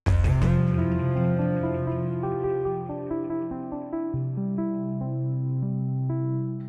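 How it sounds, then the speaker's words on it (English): Synth keys patch from the Thorn synthesizer by DS Audio plays sustained, bright chords that start strong and slowly fade, changing to a lower chord partway through, with no other sounds. "It's this keys patch."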